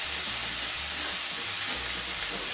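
Food sizzling in a hot cast iron pan with thyme olive oil: a steady, bright hiss without a break, close and fairly loud.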